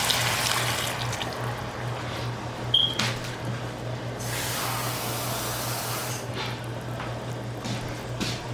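Water poured from a cup into a cooking pot while making beans, a steady splashing rush that runs for several seconds, close and fairly loud over a low hum.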